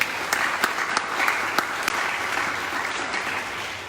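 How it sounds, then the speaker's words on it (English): Audience applause during the final Navratri night at Devi Mandir in Pickering, Ontario: a dense, sustained crowd clapping with a few sharper individual claps standing out, loud and close throughout. "Give them a lovely round of applause."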